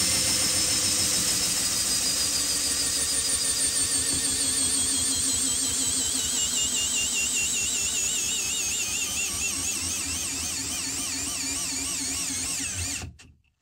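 A Bosch installation driver runs steadily at low speed, a loud continuous whine with a rising and wavering motor pitch and rattling drive noise that holds for about thirteen seconds, then stops abruptly.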